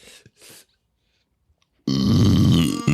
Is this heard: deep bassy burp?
yes